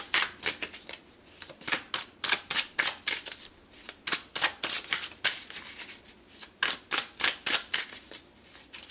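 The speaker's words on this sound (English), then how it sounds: "Let's pull a couple of tarot cards." Tarot cards are shuffled in a quick, steady riffle of crisp papery flicks for several seconds, close and clear with no voices.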